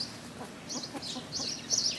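A hen clucks nearby in a series of soft, irregular bursts that grow a little louder toward the end, over a low, steady outdoor background.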